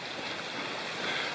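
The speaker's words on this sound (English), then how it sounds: "a nice waterfall there" Waterfall along a forest trail at the Laurel-Snow State Natural Area, a steady broadband rush of falling water heard at moderate distance, constant and even throughout with no voices.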